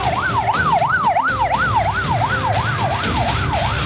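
Ambulance siren wailing in a steady, rapid up-and-down sweep, loud and continuous against city noise, sent out after an attack on a building in Palestine.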